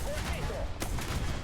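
Leopard 40/70 autocannon firing in War Thunder, with gunfire bursts over a steady wash of in-game battle noise and one sharper crack partway through; a voice may sound faintly underneath.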